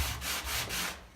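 Reclaimed wood pumpkin rubbed by hand with a sanding sponge: three quick, close scratchy strokes in a steady back-and-forth rhythm, fairly quiet and heard alone with no talking.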